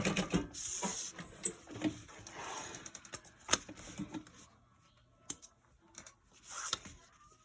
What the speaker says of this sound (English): stitch it an 1/8 of an inch up from the bottom edge there.